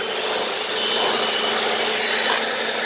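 Hoover Floormate floor scrubber working over a stained garage floor, its motor and brushes giving a steady, loud, unbroken whir for the whole stretch, with no talking.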